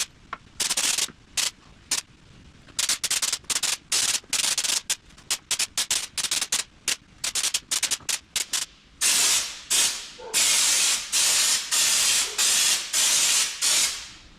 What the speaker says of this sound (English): Let's carry on spraying.